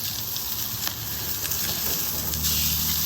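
Ribeye steaks searing on a Weber cast iron griddle over a Weber Jumbo Joe grill give a steady, close, crackling sizzle with faint pops, heard alone.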